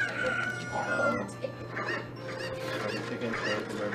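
Chickens cluck and squawk in The Legend of Zelda: Ocarina of Time during a speedrun at a live charity marathon event, with repeated game-sound squawks over a steady background hum.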